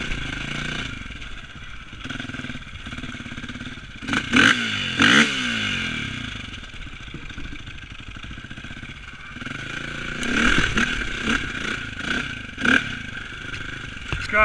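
A KTM dirt bike rides a trail, its engine droning steadily up close with a few louder revving surges and clattering bumps along the way.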